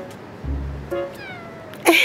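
A small black cat, newly neutered, meows after waking up: a few short, tonal mews close by, then a louder, sharper cry at the end, with quiet room sound between.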